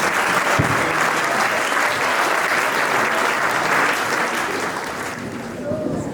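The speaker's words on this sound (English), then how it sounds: "A round of applause for class 11B and Mr. Nagpal, please." A school audience at a Gandhi Jayanti event in Nainital applauds class 11B and their teacher, with steady, dense clapping filling the room throughout before tapering slightly near the end.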